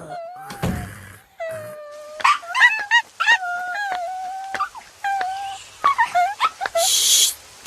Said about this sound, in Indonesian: Kamu jangan menggonggong terus dong.